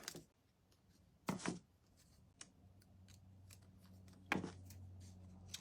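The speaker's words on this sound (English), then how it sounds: "All I'm going to do is just cut a couple of these out." Scissors snip through rub-on transfer sheets in a few sharp, close cuts spaced apart, with soft paper rustling between them in a quiet room and no talking.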